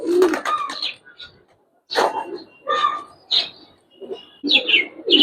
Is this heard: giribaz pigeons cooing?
yes